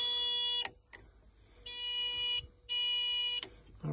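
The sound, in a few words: indicators beeping on a 1936 Austin Seven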